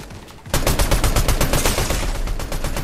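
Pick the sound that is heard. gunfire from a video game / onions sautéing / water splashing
gunfire from a video game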